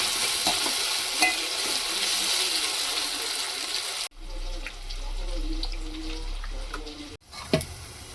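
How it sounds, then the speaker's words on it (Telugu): Ginger paste frying in oil for a village-style chicken curry, a steady sizzle with stirring scrapes, briefly interrupted, then continuing with a low hum and a sharp clink near the end. "కొద్దిగా అల్లం పేస్ట్ వేసుకొని అల్లం పేస్ట్ పచ్చి వాసన పోయేదాకా కలిపెట్టుకోవాలి"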